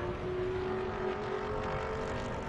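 Race cars in an SVRA Group 6 vintage event at Sonoma, a Ford Mustang leading a BMW, their engines droning steadily and loud with a sustained tonal whine throughout, no talk.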